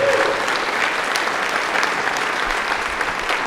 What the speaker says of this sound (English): So I would like to give a round of applause for Bo.